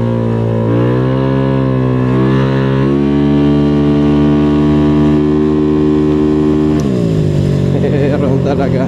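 A motorcycle engine revs hard at high RPM in traffic, a loud, sustained drone whose pitch climbs and holds, then dips sharply near the end as the throttle eases.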